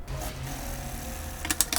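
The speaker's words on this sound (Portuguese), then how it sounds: "E vou fazer uma costurinha de segurança bem na beiradinha para fechar." A sewing machine runs a short safety seam along the edge of a piece for an insulated double lunch bag, a steady close whir with a few sharper clicks of stitching near the end.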